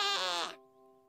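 One sheep gives a short, bright bleat that stops abruptly. A quieter steady musical tone holds after it.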